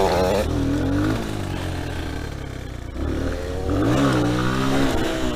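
A 125cc four-stroke dirt bike engine revs up and settles while riding off-road motocross, a close buzzing drone that rises and falls in pitch, with rider chatter over it.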